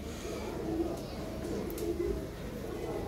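Lahori pigeons with European rings give a few soft, low coos against a quiet, hissy room background, faint and spaced apart.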